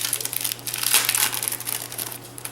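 Plastic packaging being handled and crinkled close up, a dense run of irregular crackling crinkles and rustles with no talking.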